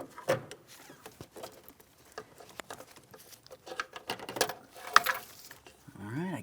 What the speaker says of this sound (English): Let's go ahead and squeeze that clamp, and we'll slide this out of position